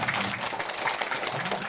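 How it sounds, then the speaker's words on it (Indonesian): Brief burst of applause from a school gathering marking Indonesia's Youth Pledge Day, dense steady clapping over a short moment with no voices on top. "Tepuk tangan dulu."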